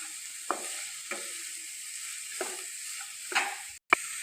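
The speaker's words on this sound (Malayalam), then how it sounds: "നന്നായിട്ട് മിക്സ് ചെയ്ത് കൊടുക്കാം" A spoon stirs vegetables with salt in a pan, a soft steady sizzle running beneath several distinct scraping strokes, close and fairly quiet with no talking.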